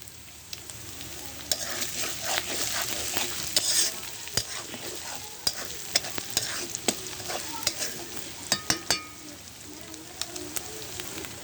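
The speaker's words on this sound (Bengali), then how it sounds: "পেঁয়াজ রসুন আদা আমার ভাজা হয়ে গেছে" Onion, garlic and ginger sizzle and fry in a pan for goat meat curry, punctuated by repeated scraping and stirring clacks of a utensil.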